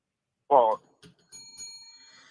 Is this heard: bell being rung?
yes